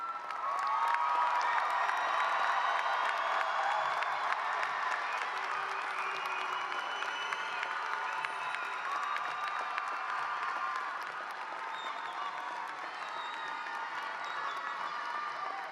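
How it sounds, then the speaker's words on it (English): An audience at a university commencement ceremony claps in a long, fairly distant wash of applause, with scattered cheers and whoops rising over it before it slowly thins. "round of applause."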